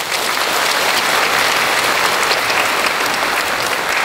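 Sustained audience applause at a Tainan Symphony Orchestra concert, dense, steady clapping from a large crowd filling the hall, loud and even throughout without a break.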